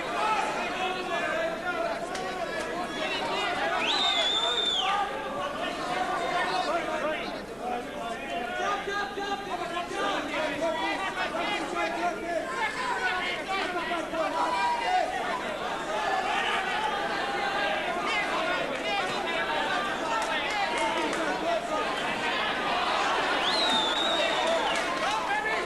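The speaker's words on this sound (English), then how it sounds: "Crowd trying to urge McAuley on to some really explosive action" A boxing arena crowd at a flyweight title fight murmurs and chatters in a dense, steady hubbub, with occasional shouts and whistles rising over the noise.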